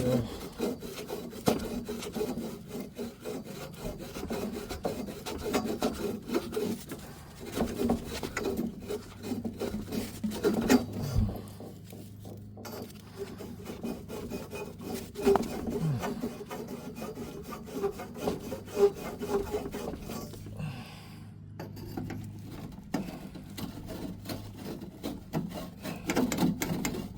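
In a cramped attic, a hand reamer deburrs the cut end of a pipe with long stretches of scraping, rasping strokes that rise and fall in a loose rhythm, close by and mostly without talk.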